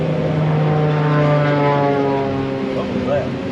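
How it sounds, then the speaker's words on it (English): A propeller airplane passes low overhead, about 100 feet up, above a small dam being rebuilt outdoors. Its engine drone is loud and steady and rises and falls slightly as it passes, with no talk over it. "Sounded like an airplane. Oh, it was an airplane. About 100 feet above me."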